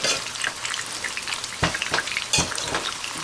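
Rice for arroz con pollo stirred from bottom to top in a pot over heat, a steady close sizzle with a few louder scraping strokes of the spoon through the grains.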